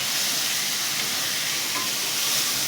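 Ginger garlic paste fries and is stirred in a pan for chicken rolls, giving a loud, continuous close-up sizzle with no voices.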